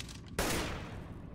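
A single heavy gunshot blast erupts partway through, fired through a wall in the video game CS:GO on the Overpass map, followed by a lingering noisy decay.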